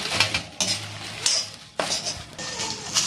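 Bay leaves being dry-roasted in a pan while a utensil stirs them, giving quiet scraping and a few light metallic clinks and taps against the pan at an irregular pace, with no voices.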